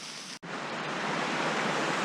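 Steady roar of Bald Eagle Falls on the North Fork Sauk creek, a continuous broadband rush of falling water, loud and close, with a momentary dropout near the start.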